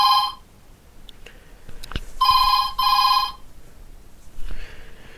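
A landline telephone from a scam caller rings in short bursts of bright electronic trilling, three rings with pauses between them, fairly close and otherwise quiet apart from faint clicks.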